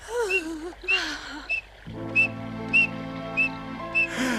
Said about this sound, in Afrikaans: Wie fluit so?